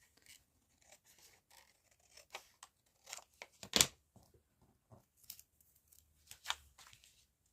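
Scissors snip through photo paper, trimming white border off a print, in a series of short, close, crisp cuts with brief pauses between, the loudest snip near the middle.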